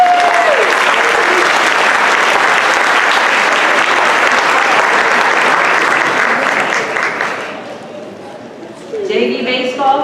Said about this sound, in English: Let's give all of our winter athletes a big round of applause.